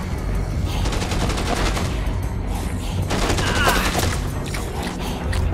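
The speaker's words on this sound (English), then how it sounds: "They're shooting at me." Dense bursts of game gunfire crackle and rattle almost continuously, loud and close, with clustered volleys of rapid shots rising and falling over a constant rumbling backdrop.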